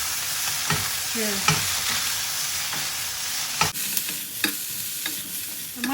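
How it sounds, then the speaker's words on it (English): Mushrooms stir-fried over high heat in a hot pan, a steady loud sizzle punctuated by sharp scraping stirs and clacks of a utensil against the pan, close up, with no talking. "Just adding all the mushrooms and a good stir"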